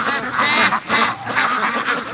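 Free-range Muscovy ducks call out in several loud, close, raspy honking bursts in quick succession.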